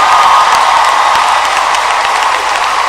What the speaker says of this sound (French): Je voudrais une acclamation hébraïque remplie de l'onction et de la puissance de Dieu.